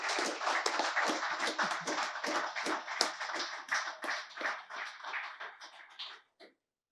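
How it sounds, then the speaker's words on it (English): A room full of people at a sneaker history panel breaks into sustained clapping, dense and steady for about six seconds before cutting off abruptly, with no talking over it. "I would like for everyone to please join me in giving this man a round of applause for all his years of service to us"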